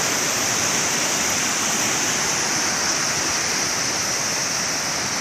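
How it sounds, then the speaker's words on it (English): A cascading river waterfall roars as a loud, close, unbroken hiss of falling water, steady and full with no pauses and no voices. "The very top of the waterfall here. And then a few more cascade waterfalls here."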